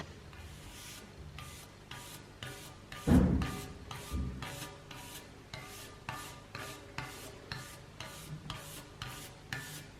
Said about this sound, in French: ce que je vais faire, c'est que je vais enlever la poussière, enfin l'espèce de poudre